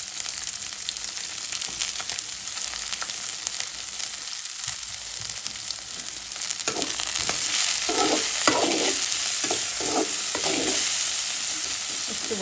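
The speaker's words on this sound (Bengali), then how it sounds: "একটু ভাজা ভাজা হোক" Vegetables with shidol shutki dried fish fry in a pan with a continuous close sizzle, growing slightly louder midway, punctuated by repeated scraping and clanking of stirring.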